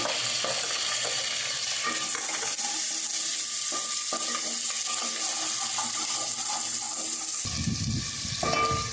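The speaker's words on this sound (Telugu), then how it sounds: "ఉల్లిపాయలు పచ్చిమిరపకాయలు వేసిన తర్వాత బాగా నూనెలో వేయించాలి వేగుతూ ఉన్నాయి" Onions and green chillies frying in oil for egg rice, a dense, loud steady sizzle throughout, with a burst of low rumbling noise near the end, close, without voices.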